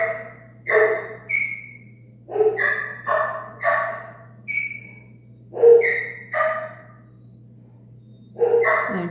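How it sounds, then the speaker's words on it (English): Dogs barking indoors: a string of about ten loud, close barks and yips in uneven bursts, with brief quiet gaps between them and steady hum underneath. "Oh, sorry guys, those are my dogs."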